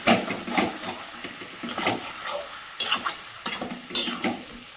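One kilo of poultry meat with spices cooking in a karai: close, irregular stirring scrapes and clatters come in short bursts over a soft sizzle.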